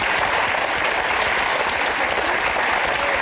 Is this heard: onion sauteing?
no